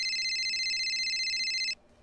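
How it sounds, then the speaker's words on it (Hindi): A phone rings with an incoming call from a boss, a steady, bright electronic trill that holds evenly at close range, then cuts off abruptly, leaving quiet. "अरे देखिए, बोस का फोन आ गया।"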